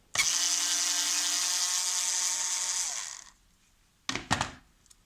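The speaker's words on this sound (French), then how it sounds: "Il faut la dévisser simplement." Power screwdriver whirring steadily for about three seconds while unscrewing a tab during disassembly of a Sonos speaker, then stopping, followed by two short, sharp clicks or knocks of handling up close.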